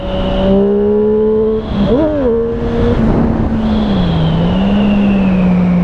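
A Triumph Street Triple RS 765 motorcycle accelerates hard in third gear, its loud, close engine note climbing steadily with a brief dip near the two-second mark before pulling on, over rushing wind and no speech.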